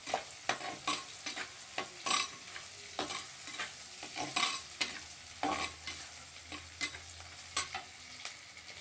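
Beetroot sautéed with a pinch of salt in a pan for poriyal, stirred with frequent sharp scraping strokes over a low steady sizzle, close and alone with no voices.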